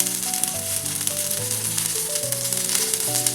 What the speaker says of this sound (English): we need to fry it in the ghee until the tikki will be tasting really yum